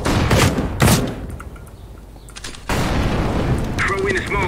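Loud booming blasts and gunfire come from a Counter-Strike: Global Offensive match, with one dull explosion near the start and a renewed burst of noise later, while players talk over the action.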